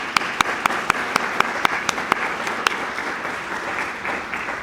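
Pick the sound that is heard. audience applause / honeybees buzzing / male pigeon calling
audience applause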